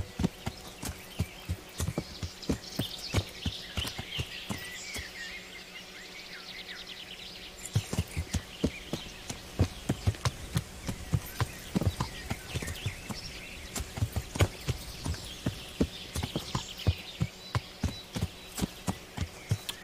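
Horse hooves clip-clopping in the video game Kingdom Come: Deliverance, a steady walking rhythm of sharp knocks that pauses briefly midway, with faint birdsong in the background.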